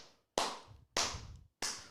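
A single person claps, three sharp, close claps spaced about half a second apart, each cut off by silence.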